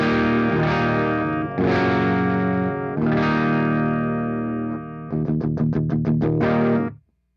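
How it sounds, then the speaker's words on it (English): Clean electric guitar chords ring out through an Orange Rockerverb tube amp, several sustained strums followed by a quick run of choppy strokes, then a final chord that cuts off abruptly. "So here's the clean tone of the Rockerverb."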